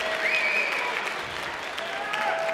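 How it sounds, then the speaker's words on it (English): A crowd claps in a steady, dense round of applause at a military institute spring concert, with a faint whistle or tone drifting above it. "let's give all of them one more round of applause"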